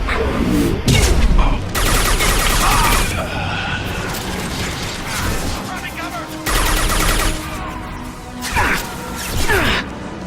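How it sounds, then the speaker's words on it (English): Heavy gunfire in the video game Mass Effect 2 comes in loud, dense bursts of rapid shots and crashing impacts. Brief lulls separate several intense volleys, and voices can be heard among the chaos. "Taking heavy fire!"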